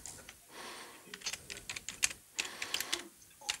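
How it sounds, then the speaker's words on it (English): Faint clicking of a computer keyboard at a home setting, irregular rapid keystrokes in small clusters, quiet and close, with no voices over it. "So, just typing here."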